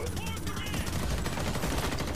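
Rapid gunfire from a heavy weapon in the co-op shooter game Homefront: The Revolution, dense repeated bursts filling the clip at close range, with voices partly mixed in.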